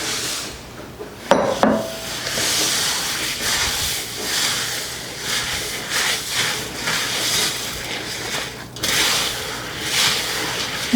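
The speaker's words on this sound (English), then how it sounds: "I'm just going to stir that cereal throughout this peanut butter and sugar mixture that we created just until it's all coated" Crisp rice cereal is stirred into a sticky peanut butter and sugar mixture, giving continuous rustling, crackling scrapes with a couple of sharp knocks against the bowl.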